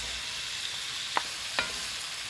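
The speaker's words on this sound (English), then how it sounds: "we're going to add in our onions and carrots" Onions and carrots frying in a pan alongside seared meat, giving a steady soft sizzle with two brief utensil scrapes, close and alone.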